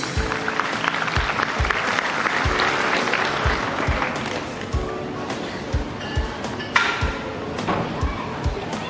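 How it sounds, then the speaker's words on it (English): An audience at a school felicitation and prize distribution ceremony claps steadily for students, a dense, sustained applause with occasional louder thumps close by, running for several seconds. "Let us appreciate these students with thunderous clapping."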